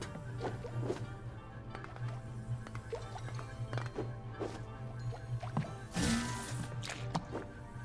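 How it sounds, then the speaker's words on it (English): Dripping gloop in the Manairons platformer, soft wet squishy drips falling at irregular intervals over a low steady hum, with a brief louder splash near the end. "Dripping gloop."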